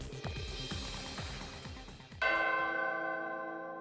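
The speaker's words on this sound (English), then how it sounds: "A loud bell for how tiny it is." Small bell in the video game Danganronpa Another Episode rings out once, loud and bright for its size, with a long shimmering decay that follows busy game music and footsteps.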